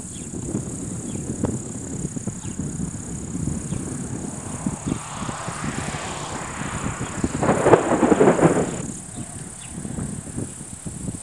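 Thunder from a nearby lightning strike during a tornado-producing storm in Valga County, Estonia: a low rumbling swell rises to a louder burst near the end over constant wind noise and a high, steady whine.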